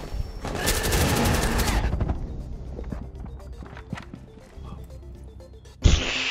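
Gunfire in the Rainbow Six Siege video game: a loud, rapid burst of shots up front, then scattered quieter shots and clatter, ending in one sharp, loud report.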